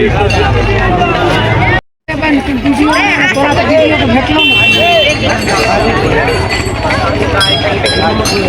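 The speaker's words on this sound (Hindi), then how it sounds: "बाप रे बहुत भीड़ छोड़े।" Busy temple fair crowd on New Year at the Manokamana temple: continuous overlapping chatter and murmuring voices nearby, broken by a brief dropout near the start, with a close voice speaking over the din.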